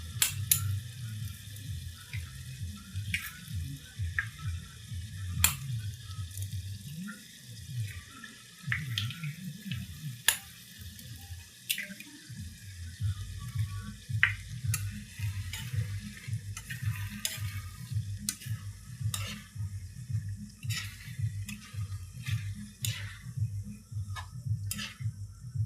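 Eggs frying with eggplant in a pan at home, a steady low sizzle with occasional scraping and tapping of a spatula against the pan, no talking.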